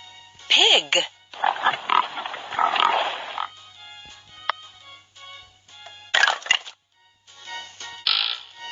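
A cartoon pig in a kids' animal puzzle game gives a few short grunting oinks, mixed with game chimes, clicks and bursts of music, and a voice announces the animal.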